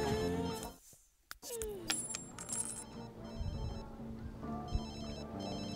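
A phone rings in The Sims 3, a repeated electronic ringtone in short patterned bursts, moderately loud over game music and interface sounds.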